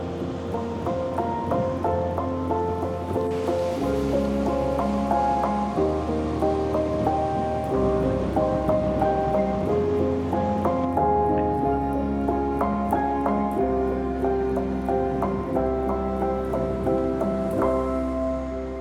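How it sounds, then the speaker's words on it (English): Waves breaking on a rock out in a bay at Anglesey, heard as a steady continuous wash of surf under overlapping tonal music, with no clear individual breaks standing out. "I'm just noticing some quite nice waves breaking on one of the rocks out in the bay"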